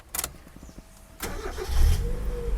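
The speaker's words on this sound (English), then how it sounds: "And let's start the car up." A 1997 Mazda Miata NA engine cranks briefly after a couple of clicks, then catches and settles into a steady, close idle with a low rumble, no voices over it.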